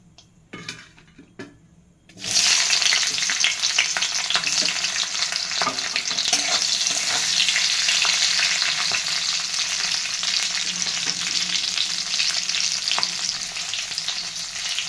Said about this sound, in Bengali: এবার এই তেলেতেই ক্যাপসিকামগুলো হালকা করে ভেজে নেব।